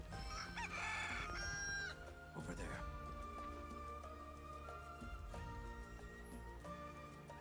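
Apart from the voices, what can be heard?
chicken clucking and crowing, from the video game Final Fantasy VII Rebirth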